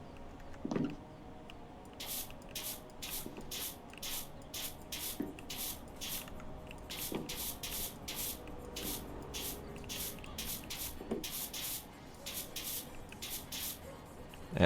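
Pressure washer spraying cleaner on a fire station in PowerWash Simulator, with repeated bursts of hissing spray that start and stop in quick, uneven pulses, no talk.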